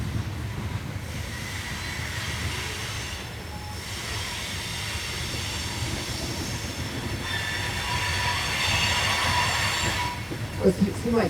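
A train rolls past continuously at an outdoor salvage surplus auction, a steady low rumble with rail noise swelling toward the end, a few brief squeals or clanks near the close.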